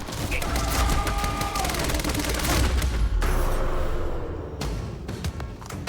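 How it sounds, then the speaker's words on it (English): Advanced SMG firing in the shooter game Quantum Break, loud dense bursts of rapid gunfire with booming impacts, continuing in bursts through the clip. "I like this advanced SMG."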